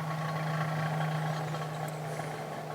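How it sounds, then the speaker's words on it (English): A tractor rolls past a campsite in Wales, its steady low engine drone holding loud and close for the whole stretch against faint outdoor background noise. "They're driving a tractor."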